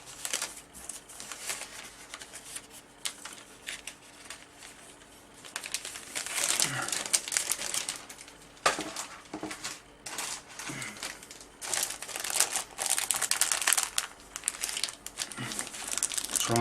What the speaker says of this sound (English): Try and keep rustling down to a minimum